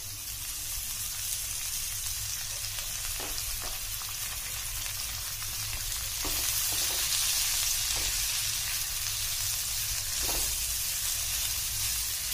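Onions frying in oil in a pan over a high gas flame, a steady loud sizzle with a few soft stirring clicks, no voices.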